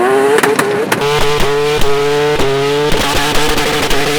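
A Mazda RX-7 rotary engine revs loudly with a buzzy, harmonic tone, climbing and dropping in pitch in repeated bursts, close and continuous.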